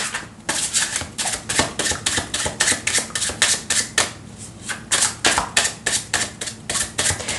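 Oracle cards for a tarot reading are shuffled by hand in a steady, rhythmic series of crisp riffling bursts, close and clear, with no talking.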